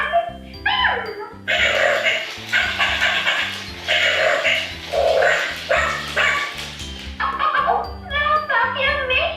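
A Disney Minnie Mouse Crawling Pals toy puppy gives repeated electronic barks and yips in a bouncy, jingly rhythm, close and fairly loud, with short musical phrases mixed in.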